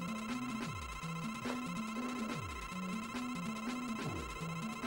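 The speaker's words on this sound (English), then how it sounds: "Now this is the stage with the really grating noise in the pause menu." Looping chiptune pause-menu music from the Mega Man 9 video game, with repeating bleepy square-wave notes and descending sweeps over a steady high drone, loud and continuous with no talking.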